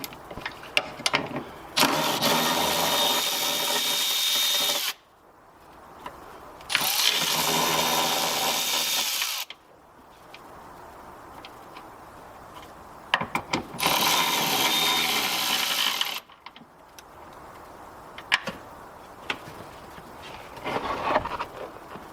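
A 12 mm wrench working loose the soft top bolts on a Mazda Miata, heard as several bursts of rapid ratcheting clicks separated by pauses and softer metallic taps, close up and without speech.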